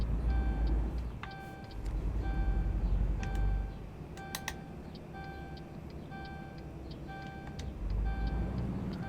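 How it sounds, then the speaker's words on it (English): Repeating electronic binging chime from the low brake pressure warning in Euro Truck Simulator 2, sounding in short clusters of rapid bings over a steady low truck engine rumble. "That binging is our brake system, telling me I've got low pressure"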